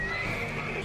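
A horse in a TV drama scene gives a brief, faint whinny with a clear tonal cry over quiet background sound.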